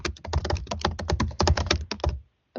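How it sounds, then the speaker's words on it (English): Rapid, uneven clatter of keystrokes on a computer keyboard, fairly close and steady for about two seconds before stopping, heard during an online public hearing with no talk over it. "I could just hear you typing."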